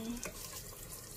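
Water poured into a pot of chicken curry with coconut cream, a brief steady splashing rush close by.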